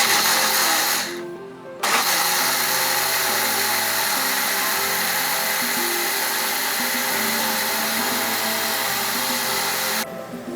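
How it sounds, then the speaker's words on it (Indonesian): Electric blender grinding soybeans for homemade soy milk, a loud continuous whirring roar with shifting pitch as the beans break down, briefly dipping near the start and cutting off at the end. "Blender kacang kedelai sampai habis."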